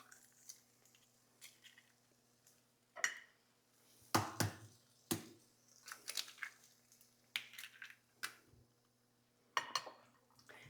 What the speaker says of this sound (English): we're just going to crack the eggs on a flat surface